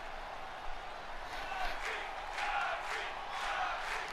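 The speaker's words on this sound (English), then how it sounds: "The crowd wants to see Tegan and Shotzi win here." A wrestling arena crowd at a tag team ladder match keeps up a steady roar of cheering and shouting, fairly distant and continuous, with swells of louder yelling now and then.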